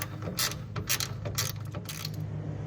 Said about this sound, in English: It's always fun when you get to flip the switch on the ratchet on a project.